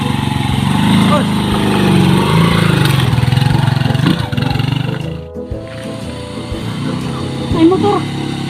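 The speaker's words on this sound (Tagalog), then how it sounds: "Ay motor." A motorcycle engine runs and revs close by outdoors, a loud steady rumble that rises and falls with throttle, with people talking and calling out over it throughout.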